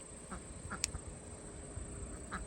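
Ducks in a garden give a few soft, scattered quacks close by over a quiet, faint outdoor background with a steady high insect-like whine.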